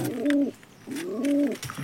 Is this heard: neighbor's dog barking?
no